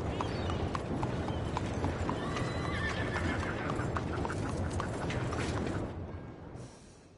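Hoofbeats clip-clop steadily as a horse neighs and whinnies in a video game, loud and close, before the sound fades out near the end.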